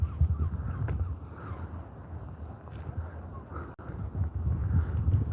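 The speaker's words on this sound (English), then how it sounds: "Look at the birds." Birds call repeatedly near a seaside cliff and promenade, harsh cawing cries scattered over steady wind rumble and microphone buffeting outdoors.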